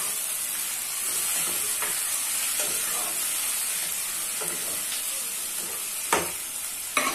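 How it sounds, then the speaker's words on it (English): Sliced tomatoes are stirred into frying vegetable oil for Nigerian-style scrambled eggs, giving a steady loud sizzle and hiss with occasional scraping stirs and light clinks. "now we can turn in our sliced tomatoes and stir everything together"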